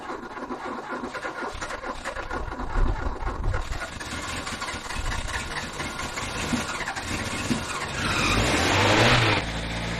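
A car engine running steadily to charge the battery, a low continuous rumble with faint scraping noises over it and a louder, brighter swell near the end.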